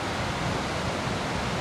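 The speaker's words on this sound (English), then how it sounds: "it's hard to talk over the waterfall" Gullfoss waterfall in Iceland roars in a constant, loud, broadband rush of falling water that fills the whole clip without a break.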